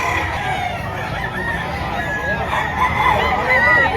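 Roosters crow amid the dense bustle of a chicken market in Padre Garcia, Batangas, with steady crowd noise and a long crowing call standing out near the end.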